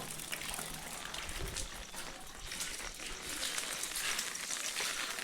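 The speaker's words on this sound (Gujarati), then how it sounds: "હજી વરસાદ એમને ચાલુ છે" Steady rain falls on a village and patters on surfaces, a constant broadband hiss with scattered drips, continuous and fairly close throughout.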